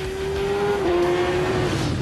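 A Suzuki Hayabusa motorcycle in its unrestricted 197-horsepower version, ridden by Philippe Monneret on the Castellet circuit, gives a loud, sustained high engine whine that holds a steady pitch and dips slightly partway through.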